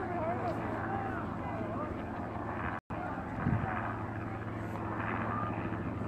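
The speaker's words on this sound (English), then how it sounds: "being videoed above right now by a helicopter" A continuous low droning helicopter rotor and engine hum fills the background overhead, steady and moderately loud, with scattered faint voices and noise over it, outdoors at the Standing Rock protest site.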